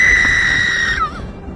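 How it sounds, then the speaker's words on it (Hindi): A sudden, painful scream rings out from inside a hut during a storm. It is loud and sustained, then breaks off and trails into quiet, with a rumbling low background beneath it. "अचानक झोपड़ी के अंदर से एक दर्दनाक चीख सुनाई दी"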